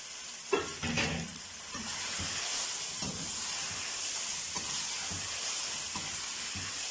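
Potatoes and peas fry in masala for turnip curry, giving a soft continuous sizzle with a few stirring knocks and scrapes early on, close and without talk.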